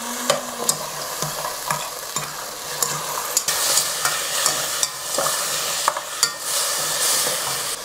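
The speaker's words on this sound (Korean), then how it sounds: "이 버섯 물을 넣고 볶을 거예요." Vegetables stir-fried in a pan after mushroom water is added, loud close sizzling with repeated scraping and clattering strokes of a spatula throughout, no talking.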